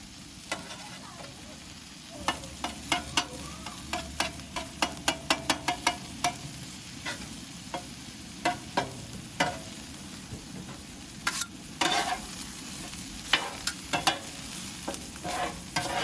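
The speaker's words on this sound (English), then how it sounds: "make room for eggs and scramble them and mix it into the veggies" Eggs are scrambled and stirred into vegetables on a flat-top griddle for chicken fried rice. Steady sizzling runs throughout under repeated sharp metal spatula scrapes and taps, in irregular bursts close by.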